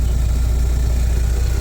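An 1988 Marmon 57L truck with a Caterpillar engine idles at close range, a steady deep rumble with a continuous even drone and no voices.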